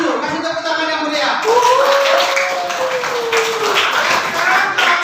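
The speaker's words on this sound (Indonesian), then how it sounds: "Silakan dulu kasih tepuk tangan yang mulia." A classroom group claps together for several seconds, a dense, steady patter of hands filling the room while a voice carries over the top.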